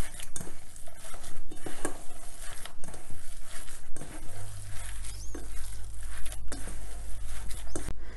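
Burger ingredients being mixed by hand in a bowl, giving soft, close squelching and patting sounds with light clinks, alongside a low steady hum from the kitchen.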